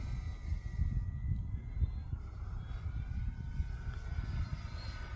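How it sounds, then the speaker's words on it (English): An E-flite P-51D Mustang 1.5m electric RC warbird, running on a Spektrum 4000 battery, drones steadily overhead outdoors on the Fourth of July, a continuous moderate motor and propeller hum with a low rumbling wind-like texture. "Just kind of taking it easy with this airplane, trying to get a good feel for it, being only my third flight with it."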